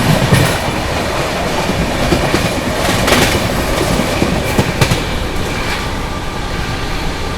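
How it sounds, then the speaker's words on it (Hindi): The Bihar Sampark Kranti superfast express runs at speed, its loud continuous roar and wheel clatter heard from inside a 2AC coach, with rhythmic clickety-clack bursts over the rails and no talk. "ट्रेन ने जो है फिर से रफ्तार बनाई है।"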